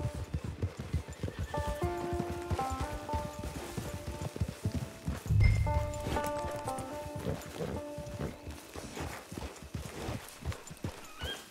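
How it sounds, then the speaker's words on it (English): Horse hooves in Red Dead Redemption 2 clip-clop in a quick, uneven rhythm, close and clear, with soft melodic tones playing over them and a brief snort midway. "It's your horse."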